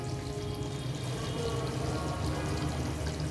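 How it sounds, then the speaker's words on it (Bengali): Rice poured into a pot of cooked, braised beef for biryani gives a steady, close rushing patter with a faint sizzle underneath, and no voices. "আমি এখন এর ভিতরে চাল অ্যাড করব।"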